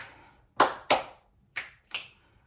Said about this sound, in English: I'm gonna bring back the clap snaps.